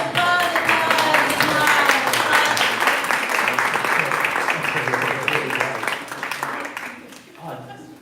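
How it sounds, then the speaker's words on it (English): Audience applause at a live poetry and reading event, steady dense clapping sustained for several seconds before tapering off, with some voices mixed in underneath. "Give me applause, applause, applause"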